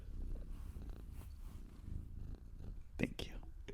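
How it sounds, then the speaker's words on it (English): A cat purrs softly in a low, steady rumble, faint and close, while people murmur quietly nearby and something briefly rustles. "She's purring."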